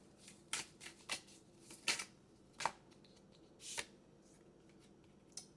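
Tarot cards being shuffled for a clarification draw, heard as a scattered series of short, crisp riffling bursts with quiet pauses between them, close by and fairly soft, no voices.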